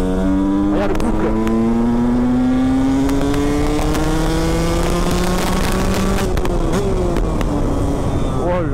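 KTM 125 SX supermoto engine accelerating hard, close by, its pitch rising steadily through the gears in a loud, continuous buzzing wail, with voices talking over it.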